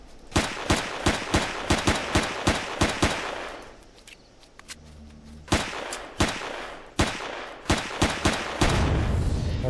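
Sharp, loud gunshots from Empyrion fire in quick repeated volleys, a dozen-odd evenly spaced cracks, a short lull with a low hum, then more rapid shots ending in a sustained rumble.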